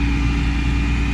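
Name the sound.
cars passing on the road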